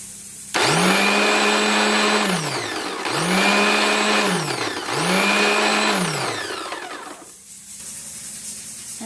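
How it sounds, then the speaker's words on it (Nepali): A mixer grinder purees local tomato pickle in three loud, close whirring bursts, each one rising and falling away, followed by a quieter low hum as the motor winds down. "मैले अब चाहिँ मिक्सरमा पिन्न लागेको चाहिँ अचार बनाएर"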